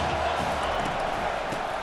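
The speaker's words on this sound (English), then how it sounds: "Here comes second down, and this crowd is turning it up a notch." Steady roar of a stadium crowd cheering in the College Football 25 video game, a dense, continuous wash of massed voices holding at an even level throughout with no distinct individual calls.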